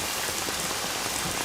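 Steady rain falling on surfaces outdoors, a dense, even hiss of many drops that stays loud and constant throughout, with no voices.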